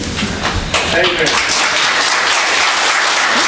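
Audience applause at a county commission meeting, dense sustained clapping from a room full of people throughout, with voices mixed in.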